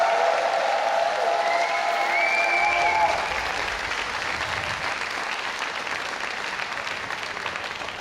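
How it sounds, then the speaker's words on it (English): Crowd at a StarCraft II tournament semifinal applauding and cheering, a broad wash of clapping that stays loud and then eases slightly without stopping, with no talk over it. "Give a cheer for Flash!"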